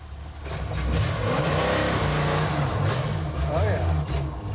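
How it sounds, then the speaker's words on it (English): A fast car accelerates through town, its engine revving loud and close with a steady roar, while people talk over it inside the cabin. "Tom offered to drive me around town in one of his many fast cars."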